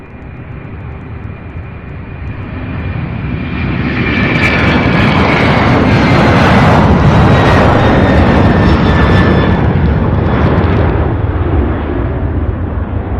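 A fixed-wing airliner takes off at Louisville International Airport, its engine roar swelling from a distant rumble to a loud, sustained thunder with whining tones, then easing slightly as it climbs away.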